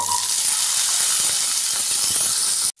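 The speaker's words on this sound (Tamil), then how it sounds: "இப்போ சின்ன வெங்காயத்தை சேர்த்துட்டுவோம் நம்ம" Small onions (shallots) frying in hot oil for a tamarind curry, a loud, steady close sizzle and hiss that runs without a break, then cuts off abruptly at the end.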